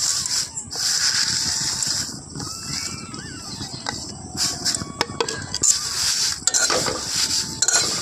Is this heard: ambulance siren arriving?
no